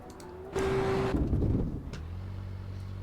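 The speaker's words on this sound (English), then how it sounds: "Very, very fast car." Ferrari race car in Assetto Corsa, its engine revving up into a sharp whine, then dropping back to a lower steady drone, moderately loud and without talk.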